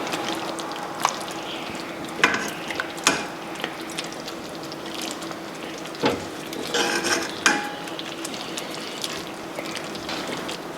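Oxtail stirred into thick, creamy kare-kare peanut sauce in a pot: wet, scraping, clicking spoon strokes in an irregular rhythm, close and moderate in volume, with no voice over them.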